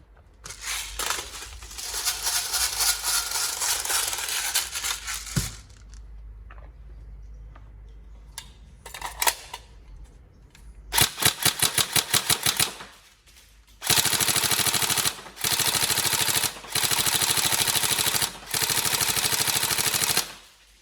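Upgraded Tokyo Marui 416 Devgru NGRS airsoft electric gun firing close up: long full-auto bursts, then a series of rapid, crisp single shots and short bursts as the trigger response is tested, loud with quiet mechanical handling between strings.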